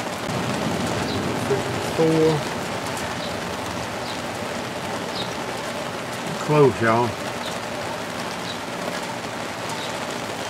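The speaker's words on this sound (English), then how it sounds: "It is raining out here" Steady rain patters continuously on a surface outdoors beside an offset smoker, with someone speaking briefly twice over the downpour.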